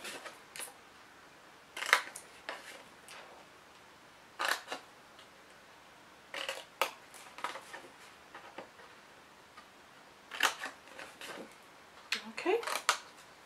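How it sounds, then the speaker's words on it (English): Scissors snipping small triangles off a paper Easter bunny box, crisp isolated clicks and cuts in scattered clusters with pauses between, close and quiet. "we're just going to snip those"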